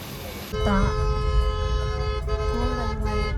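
A car horn blares in a long, steady honk close by, with traffic rumbling underneath and a brief voice.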